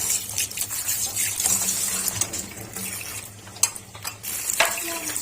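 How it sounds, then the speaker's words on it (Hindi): Water is poured into a pan to boil mutton keema, a continuous close splashing pour like a running tap with a few soft clatters, no talking. "अब पैन के अंदर थोड़ा सा पानी और ऐड कर लेंगे।"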